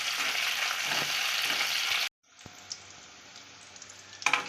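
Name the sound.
frying ginger, garlic and dried red chillies in pan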